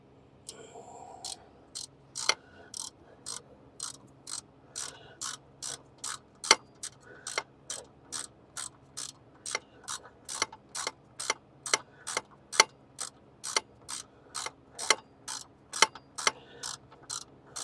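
A hand ratchet clicks in a long, steady series of sharp, close strokes while a bolt is worked off a farm truck's turbo pedestal, with roughly thirty evenly paced ticks over quiet background.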